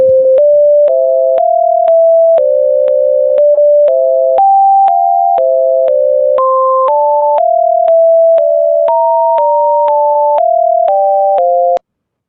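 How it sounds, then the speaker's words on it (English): Computer-generated pure tones from SCILAB, two playing together, step through a loud sequence of steady notes that change pitch every half second or so for about twelve seconds before stopping abruptly. "So this was two tones were played simultaneously."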